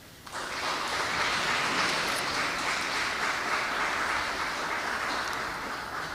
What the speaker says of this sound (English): join me in giving a warm and vibrant round of applause to the hardworking scholarship recipients